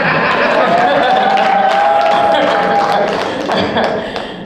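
A comedy club audience claps and murmurs, giving a loud, dense wash of applause with crowd noise that holds steady and fades slightly toward the end.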